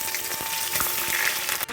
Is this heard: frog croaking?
no